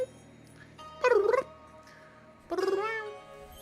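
A human voice imitates a cat's meow twice, two drawn-out wavering mewls about a second and a half apart, close and clear over quiet background.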